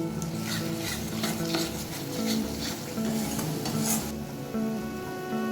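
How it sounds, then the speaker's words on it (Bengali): A spice mixture with sugar is stirred in a frying pan for a Bengali home-cooked dish, with steady sizzling and repeated scraping strokes of the spoon against the pan, close and continuous. "চিনিটা দেওয়ার পরও একটু নেড়ে নিচ্ছি।"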